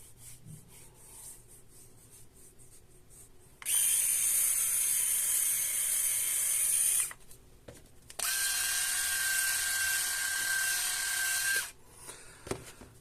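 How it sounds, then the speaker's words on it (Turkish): A Philips 1000 series and an Enchen Blackstone 3D electric shaver shave in turn, two steady high-pitched buzzing bursts of about three seconds each, separated by a short quiet gap and loud against the background. "Eşite yakın kesiyor. Ee, çok yakından tıraş ediyor."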